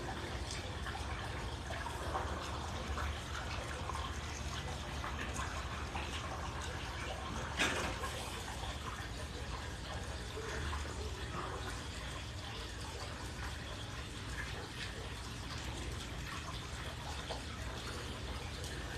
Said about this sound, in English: The fountains are running in the background, nice and peaceful.